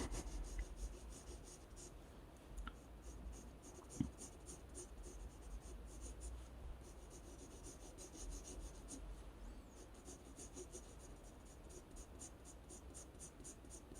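Steady, soft scratchy rubbing of a pencil shading on paper during a botanical tulip drawing, continuous and close with a faint tap partway through and no talking.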